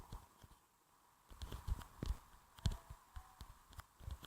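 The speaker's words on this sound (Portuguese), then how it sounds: "Tem um cavalo ali." Horse hooves clip-clop in a video game, an irregular series of soft, fairly close thuds over a faint background, starting after a quiet first second.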